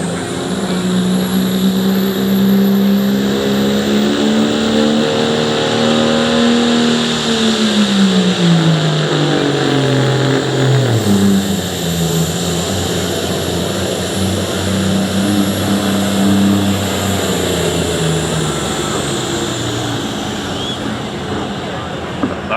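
A pulling truck's engine roars loudly and continuously at a truck and tractor pull in New Lexington, Ohio, its pitch rising and falling as it works down the track, with an announcer talking over it.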